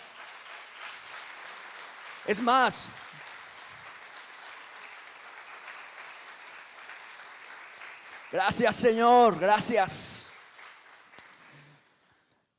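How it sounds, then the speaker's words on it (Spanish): A church congregation at Iglesia Salem Fuenlabrada claps for several seconds in a steady, moderate patter, with a voice breaking in twice and the clapping fading out near the end. "¿Por qué no damos un aplauso al Señor?"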